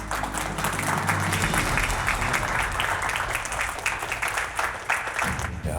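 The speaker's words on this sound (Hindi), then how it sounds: "तो मैं चाहता हूं कि इनका वेलकम आप अपनी जोरदार तालियों से करें।" Loud, dense audience applause welcomes guests at a competition event, with a low rumble at the start, steady clapping throughout and a brief low thud near the end.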